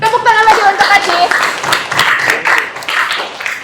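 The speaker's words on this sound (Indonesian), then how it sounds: "Tepuk tangan lagi untuk Ajis." Applause for a student in an Indonesian university classroom teaching practice session, a short burst of group clapping mixed with a voice talking over it.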